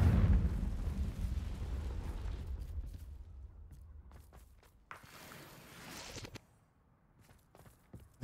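A Confringo fire spell from Hogwarts Legacy erupts as a loud, deep rumbling blast that slowly fades over several seconds, followed by scattered sharp crackles and small impacts.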